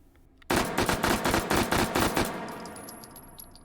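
An H&K MP5K fires a long full-auto burst in H3VR, loud and close with a sharp onset and rapid, evenly spaced shots for about two seconds, then a decaying ringing tail.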